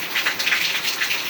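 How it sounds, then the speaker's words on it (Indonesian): Heavy rain falls at night, a dense, steady hiss of drops with no other sound. "hujan yang cukup deras."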